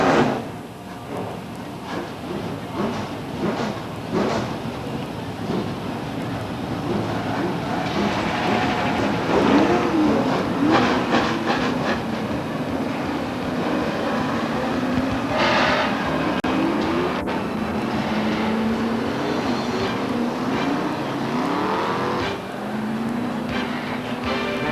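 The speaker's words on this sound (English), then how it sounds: "Gentlemen, start your engines." Several race car engines starting and revving together at Beech Ridge Motor Speedway weekly racing in 1993, a loud continuous roar that builds and wavers with rising and falling engine pitches.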